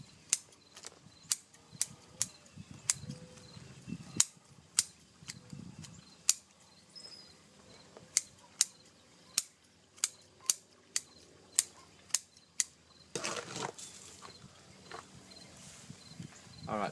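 Root shears snipping bonsai root tips during drastic pruning, a series of crisp, close metallic cuts at a steady, unhurried rhythm, about a dozen in all, with soft handling noise and rustling between them.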